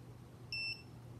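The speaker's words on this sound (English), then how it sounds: "And there's our buzzer." A drone flight controller buzzer emits a single short, clear electronic beep over faint background hum, with a Diatone Fury F3S controller on a quadcopter build.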